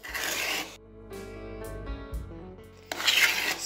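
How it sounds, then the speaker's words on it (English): A hand scraper works across a bound archtop guitar pickguard held in a vise, giving close, rough rasping strokes at the start and the end with quieter scraping between them. "Scraping is really fun."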